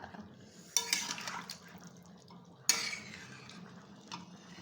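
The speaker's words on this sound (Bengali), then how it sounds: "এইবার এই সবজির সাথে মিশিয়ে দেবো ফুলকপি সিম আলু।" Cauliflower, beans and potato being stirred into vegetables in a pot for khichuri, with two sharp metallic clanks of a utensil against the pot and soft scraping between them, fairly quiet.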